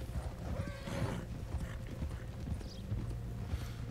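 Horse hooves clip-clop steadily in the video game Red Dead Redemption 2, with a horse neighing partway through amid a busy outdoor game ambience.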